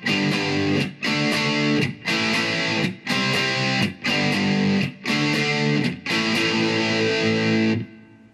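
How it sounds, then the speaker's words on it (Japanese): Distorted electric guitar chords from an Epiphone Les Paul through a Zoom MS-50G into a Vox Pathfinder 10 amp ring out in a steady rhythmic pattern with short gaps, washed in springy reverb, then fade at the end. "ここでスプリングを足すとまたいい感じの音になります"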